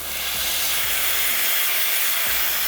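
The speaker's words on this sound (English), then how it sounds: "Steaming milk. It is a multi-directional wand." Steam wand on a VBM 2021 dual boiler espresso machine hissing steadily as it steams milk, a loud, continuous broadband rush with a few low thumps underneath.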